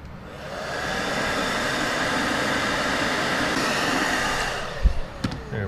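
Heat gun blowing hot air around the adhesive edges of a GoPro helmet chin mount, a steady loud rushing hiss for several seconds that cuts off, followed by a few handling knocks.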